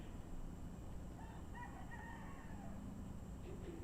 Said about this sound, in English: Did you hear that rooster just now?